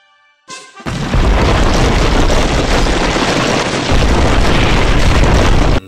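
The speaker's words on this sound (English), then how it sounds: "The two head out as we cut to the place being demolished." A building blows apart in a loud, sustained demolition explosion: a short lead-in, then a dense, roaring blast of rumbling debris that holds for several seconds before cutting off abruptly.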